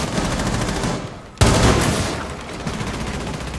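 Gunfire in Rainbow Six Siege, a loud sustained burst of automatic shots, a brief cutoff, then another sharp volley that rings out and fades into continued firing.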